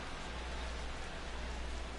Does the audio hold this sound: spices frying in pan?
no